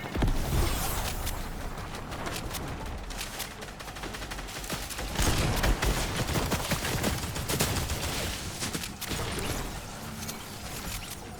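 Dense, loud video game gunfire in a first-person shooter, with rapid overlapping bursts and shots continuing without pause, mixed with mechanical clatter and impacts.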